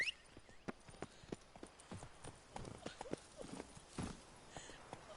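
Horse hooves clip-clop steadily at a walking pace in The Witcher 3: Wild Hunt, Blood and Wine expansion, with a brief whinny or snort midway; the clops sound fairly close and moderately quiet.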